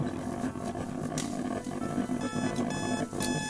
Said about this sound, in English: my alarm went off at 5:05 a.m.